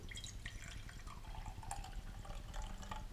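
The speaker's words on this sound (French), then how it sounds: "préparer la colle en mettant de l'eau dans un pot" Water is poured into a pot to mix rabbit-skin glue, a steady trickling and splashing stream heard close up, with no voices.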